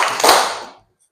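A class of students claps in a classroom, a short cluster of hand claps that fades quickly and leaves silence.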